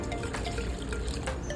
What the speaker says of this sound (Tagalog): maglagay na po tayo ng 3 cups ng tubig.